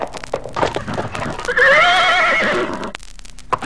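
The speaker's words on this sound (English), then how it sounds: "Galloping furiously down a path through the woods," A horse gives a loud, close whinny lasting over a second, surrounded by rapid clip-clop of galloping hooves on a woodland path, with no talking.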